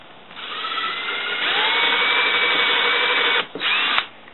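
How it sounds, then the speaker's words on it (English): A power drill whirs steadily at close range for several seconds, its pitch rising as it bites, then briefly dips and revs again before stopping. "I'm just going to go ahead and drill a pilot hole"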